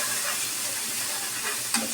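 Salt, turmeric and coriander powder stirred together in a frying pan, a soft continuous sizzle with light scraping, close up and fairly quiet.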